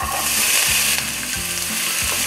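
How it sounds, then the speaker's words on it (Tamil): Chopped onions sauté in hot oil in a kadai for kadai paneer, giving a steady, loud sizzle and frying hiss with a few soft stirring scrapes. No one speaks. "இந்த வெங்காயத்தை நல்லானா அவ்வளோ நல்லா வதக்கணும்."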